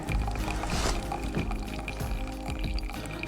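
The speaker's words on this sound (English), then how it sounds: "carefully pour some water in." Water is poured slowly into a coffee drip filter at a camp setting, giving a soft, steady trickle with small splashy accents over about three seconds, quiet and close.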